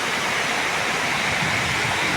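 Water rushes and flows steadily at a lake in Mulakalacheruvu where fish are being netted, as a dense, continuous, loud wash of noise with no pauses.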